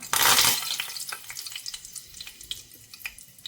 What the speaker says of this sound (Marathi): खडे मसाले पहिले टाकतोय आपण हा झाला आपला कढीपत्ता